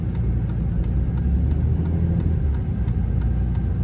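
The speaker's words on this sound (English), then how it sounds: "you can hear a little bit of the exhaust" Low, steady rumble of a Dodge truck's 6.7 Cummins diesel exhaust heard from inside the cab, droning evenly at moderate level with no talk.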